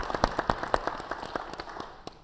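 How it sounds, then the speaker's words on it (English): Short burst of applause from a panel discussion audience greeting a speaker, a handful of loud distinct claps close by over a thinner spread of clapping that quickly tapers off. "So let's give him a round of applause."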